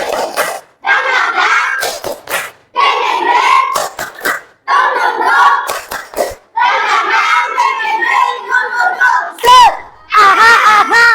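Fourth-grade elementary pupils in a classroom perform a rhythmic spirit clap, loud bursts of shouted chanting in unison, punctuated by sharp group claps in a repeating pattern.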